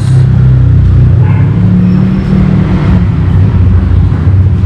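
A car engine rumbles loudly through a Rev aftermarket exhaust, producing a deep, close drone with some rising revs early on.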